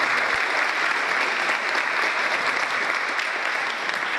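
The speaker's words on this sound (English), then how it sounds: "Just a round of applause" Steady, dense applause from a crowd at a Korean next-generation network evening hosted by the consulate, many hands clapping evenly and continuously at moderate loudness, with no talk over it.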